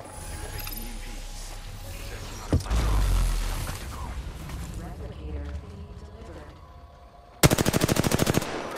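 Gunfire in the Apex Legends battle royale game, with scattered shots and mechanical clatter under talk, ending in a loud rapid burst of automatic fire.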